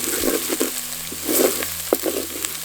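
Onions and garlic sautéing in a pan for a tamarind curry, a close, loud sizzle with soft stirring scrapes and a small knock.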